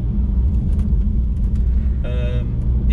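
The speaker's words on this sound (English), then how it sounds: "Sorry, pothole galore." A car drives over a pothole-ridden road, its low engine and road rumble heavy and steady throughout, with a brief rattling burst about two-thirds of the way through.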